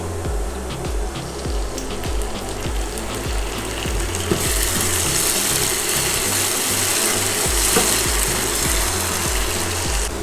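Ginger, garlic and onion fry in a pan as puree from two ground medium tomatoes goes in, a steady close sizzle with rough clattery scraping throughout, growing brighter and louder halfway through; no voices.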